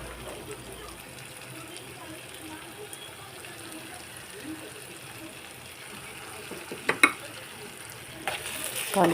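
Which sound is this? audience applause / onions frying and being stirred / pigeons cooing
onions frying and being stirred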